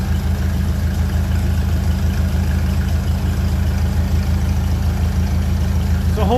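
A 1957 Ferguson 35 TVO tractor engine idles close by with a steady, low, even chug that holds at the same level throughout.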